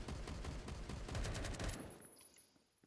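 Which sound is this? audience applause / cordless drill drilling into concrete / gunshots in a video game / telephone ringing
gunshots in a video game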